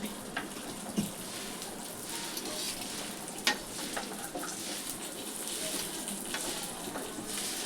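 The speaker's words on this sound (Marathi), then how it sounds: "असे चांगले चुरचुरीत भाजा." Food stirred and roasted crisp in a pan, a faint continuous sizzle broken by scraping stirs and occasional knocks of the spoon, quiet and close.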